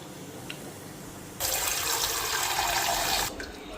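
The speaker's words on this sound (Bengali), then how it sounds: "তো ওইদিকে ডালটা ভালো করে ধুয়ে নিতেছি।" Running tap water pours loudly over lentils being washed in a pot for about two seconds, then stops, with quieter background noise before and after.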